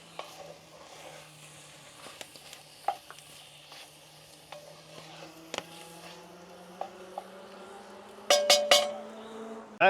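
Ground meat browning in a pan for shepherd's pie: a quiet sizzle under a low hum, broken by occasional clicks and sharp clinks of a utensil near the end.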